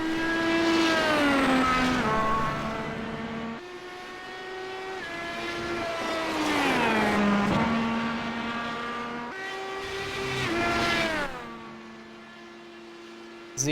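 Champ Car race cars roar past on an oval track at the Arrowhead Challenge 200, engines rising and falling in pitch as each one sweeps by in a series of loud, Doppler-shifted passes.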